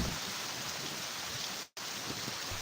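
Heavy rain at night, a dense steady hiss of downpour filling the scene, close and constant, broken by one brief dropout near the end.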